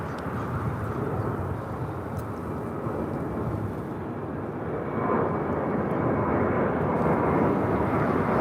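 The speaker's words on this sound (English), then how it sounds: "Coming in from Austin, Texas, Southwest Airlines flight 1895 and a 737-800." A Southwest Airlines Boeing 737-800 arriving at LAX from Austin makes a steady, loud low engine roar that builds slightly toward the end, with no talk.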